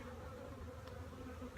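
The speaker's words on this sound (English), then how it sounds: "So I have a yellow jacket in here." A yellow jacket wasp buzzes faintly and continuously indoors, a thin droning hum that wavers slightly, with no talking.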